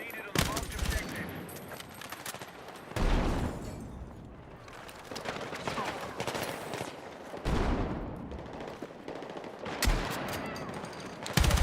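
Shotgun blasts in the Battlefield 6 video game, five or six loud, sharp booms spaced a couple of seconds apart, with a voice talking in between.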